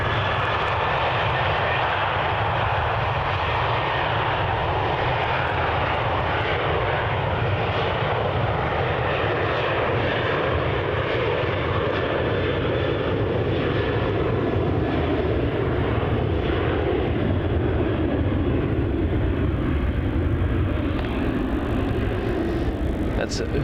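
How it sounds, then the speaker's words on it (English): Virgin Australia Boeing 737-800 jet taking off from runway 34 at Melbourne Airport, a steady, loud, broad engine roar building and sustained throughout, with a voice talking over it. "Lining up from runway 34 now, we have a Virgin Australia 737-800."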